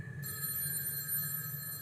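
A telephone rings in a horror film scene, with a steady electronic bell tone holding throughout, close and clear with no one speaking.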